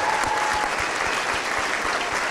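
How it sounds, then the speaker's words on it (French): A live concert audience applauds the band after an acoustic set, with steady, dense clapping from the crowd and faint low thumps recurring beneath it. "vous pouvez les applaudir très fort"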